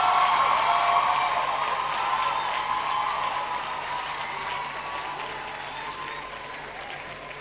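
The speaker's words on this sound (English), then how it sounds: "give them a huge round of applause" A graduation ceremony audience at the University of the West Indies applauds at length, a broad sustained clapping that fades gradually toward the end.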